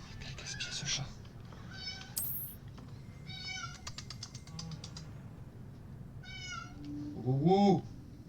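A cat meows repeatedly in the video game Hogwarts Legacy, with several short mewing calls over a low game ambience, the last one louder and drawn out; no speech stands out.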